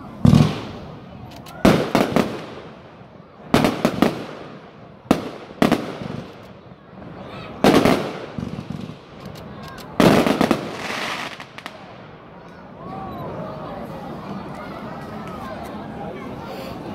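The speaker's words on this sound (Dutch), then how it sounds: "u gaat kijken naar een vuurwerk met de naam Stork" Vulcan Stork consumer fireworks cake firing 30 shots, loud sharp bursts in an irregular volley with crackling tails and a sparkling fizz fading at the end, faint crowd murmur underneath.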